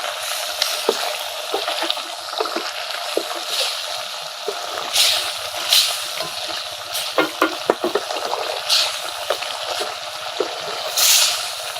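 Chicken liver cooking down with tamarind pickle and a little chili in a pan, giving a steady close sizzle with intermittent stirring scrapes and soft splatters throughout, no voices.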